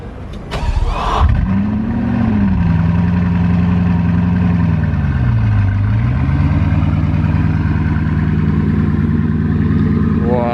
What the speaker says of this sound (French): je reviens au casino juste pour le start-up de la Chiron